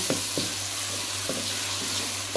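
Four medium chopped onions sizzle steadily in a hot pan for a Hyderabadi chicken masala, a loud continuous hiss with a few soft stirring scrapes over it, close up and without speech.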